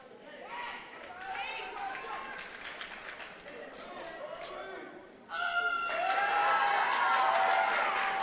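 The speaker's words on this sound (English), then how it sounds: "Getting a lot of crowd support after that knife hand chop." A crowd at a martial arts tournament cheers and applauds after a competitor's knife hand chop, a mix of clapping and shouting voices that swells suddenly to a loud, sustained roar.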